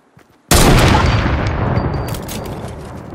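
A single loud gunshot in the video game Fortnite cracks suddenly after a brief near-silence, leaving a long, gradually fading echoing tail.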